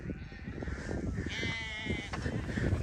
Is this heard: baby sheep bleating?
yes